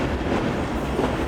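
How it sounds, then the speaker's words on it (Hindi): An Indian passenger train runs on its rails entering Hyderabad, giving a steady, loud rolling rumble with a dense wash of wheel and carriage noise and no breaks. "दरिया पार करते ही हमारी ट्रेन कोटी शहर से हैदराबाद शहर में एंटर हो गई है"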